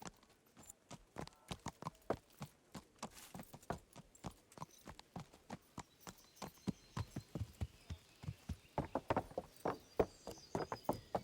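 Rhythmic clip-clop of a horse's hooves in a video game, a steady run of crisp, distinct hoofbeats close up that quickens and grows louder toward the end, with no talking over it.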